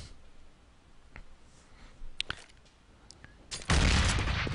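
Counter-Strike gunfire on the Mirage map, with scattered sharp shots and clicks, then a loud grenade blast that ends in a sustained roar.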